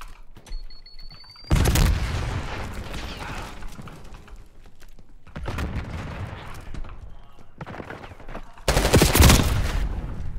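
Call of Duty: Black Ops 6 gunfire comes in several loud rattling bursts separated by quieter gaps, close and harsh, with mechanical clicks in between.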